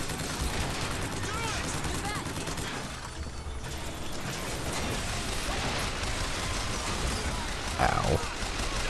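Rapid crank gun fire rattles continuously in a Bioshock Infinite battle, loud and dense with mechanical clatter and impacts, dipping briefly midway before resuming.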